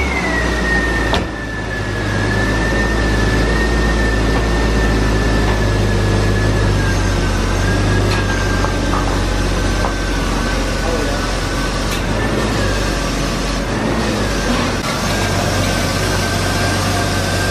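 A BMW E36 car engine idles and rolls off wooden blocks on its first drive, a steady low hum with a high whine and a few knocks and clunks, while a person talks over it.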